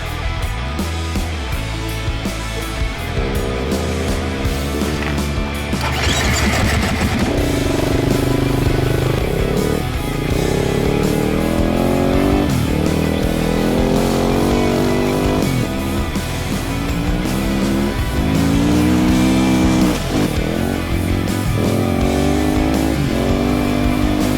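Rally motorcycles and cars pull away from the Rally Mongolia start, engines revving and rising in repeated swells as vehicles accelerate off, loud and continuous over a crowded outdoor background with music-like tones mixed in.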